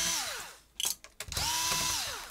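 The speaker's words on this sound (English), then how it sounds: "gets really crazy now because you just gotta remove all these screws now" A power drill backs out screws in two bursts, each whine ramping up, holding, then winding down. Sharp clicks and clatter fall in the short gap between the runs. The tool sounds close and loud with no speech.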